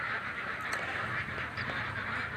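Caged laying ducks on a duck farm quack in a continuous, busy chorus of overlapping honking calls, close and steady throughout.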